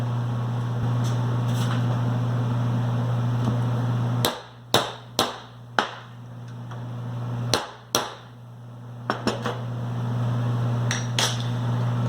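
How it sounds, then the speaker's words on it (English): Sharp metallic hammer taps on a punch ring out in a loose series of about eight strikes over a steady low hum, close and distinct, during Johnny Joint assembly. "we'll tap with a hammer to knock it down in"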